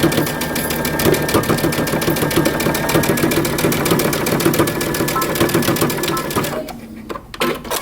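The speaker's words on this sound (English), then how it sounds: "now we're going to stitch across using 5/8 of an inch seam allowance" Sewing machine stitching a shoulder seam on a long coat or vest, a fast steady mechanical rattle running continuously before stopping near the end.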